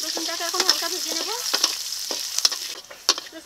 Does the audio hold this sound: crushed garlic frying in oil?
yes